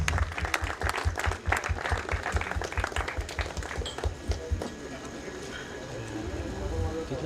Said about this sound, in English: Can we get a round of applause again?